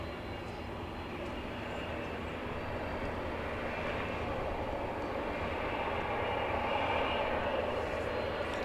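A Turkish Airlines airliner taxiing at Los Angeles International Airport, heard as a steady distant jet-engine rumble and hiss that swells slightly toward the end, with faint voices low in the background.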